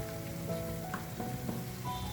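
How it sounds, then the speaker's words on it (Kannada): Salted masala curry for a simple chana masala bubbles and sizzles in oil in a pan, a steady close crackle with soft pops scattered throughout and no speech. "ಉಪ್ಪು ಹಾಕಿದ ಮೇಲೆ 1 ಸೆಕೆಂಡ್ ಆಗುವಷ್ಟು ನಾನು ಇದನ್ನು ಕುದಿಸ್ಕೊಳ್ತಾ ಇದ್ದೀನಿ"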